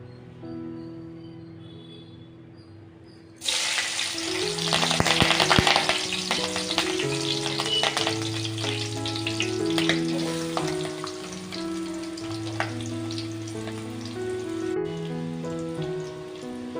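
Sliced eggplant with curry leaves, green chillies and onion sizzles loudly in hot oil after being dropped into the pan, a dense continuous crackle, while soft background music plays under it.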